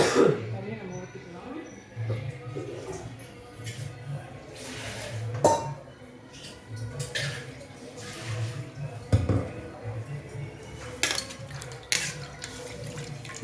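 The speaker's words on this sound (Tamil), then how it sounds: "இப்போது நல்லா மிக்சி சாரை அலசி அலசி" Water splashes and swirls as a mixer grinder jar is rinsed and swished out in a kitchen, with clinks of the jar against a sink, continuous and close, and a voice talking over it.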